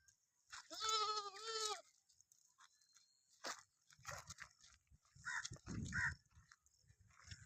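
A goat gives one loud, wavering bleat up close, then comes a stretch of rustling, crunching and shuffling, with more brief animal or vocal sounds mixed in.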